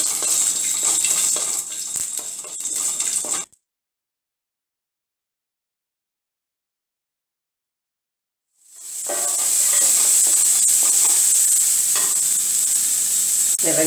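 Mustard seeds, urad dal, curry leaves and a torn dried chilli sizzle hard in hot oil, with a loud crackling hiss that cuts out into several seconds of silence and then returns just as strongly. No one speaks.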